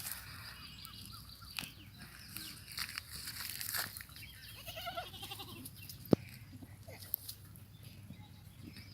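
A young goat kid bleats several times while goats are out grazing, thin cries rising over faint rustling and crinkling nearby, with quiet murmurs of people in the background.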